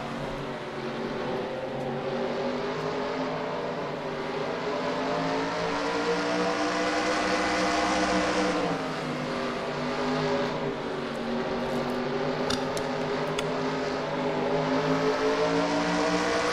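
Race car engines drone steadily in a racing video game, a continuous loud roar of several cars with slight pitch shifts as they rev and ease off, with no talking.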